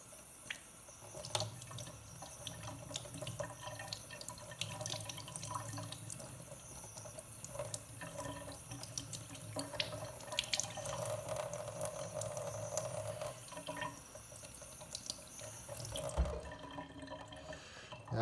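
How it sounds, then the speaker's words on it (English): Tap water running over aquarium plant roots being washed for a tank, a continuous faint splash and trickle with light drips, steady for most of the span before cutting off near the end. "Wash off the roots a little bit and get it prepared, ready to be put in our tank."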